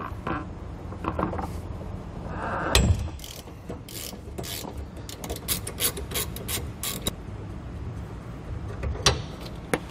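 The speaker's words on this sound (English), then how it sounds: "remove those nuts using an 18 millimeter socket" An 18 mm socket and wrench loosen hub nuts on a trailer, giving close ratcheting clicks in rapid bursts, a heavier clunk and scattered metallic taps.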